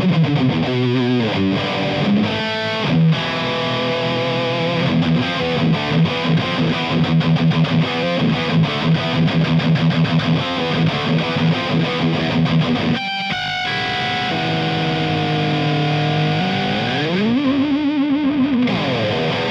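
Heavily distorted Gibson Custom Shop 1967 Flying V electric guitar plays a loud riff of chugging chords and sustained notes, close and continuous with no voice.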